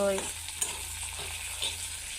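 Dried fish (shutki) frying in hot oil, a steady close sizzle with a faint stir or two, brief and with no voices.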